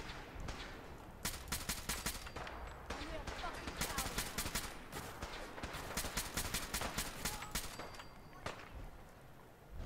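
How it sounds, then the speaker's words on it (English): Rapid bursts of gunfire in the video game Fallout 4, volleys of shots and crackling automatic fire running through most of the scene, loud and dense with brief pauses between bursts. "I think she's actually firing at these guys."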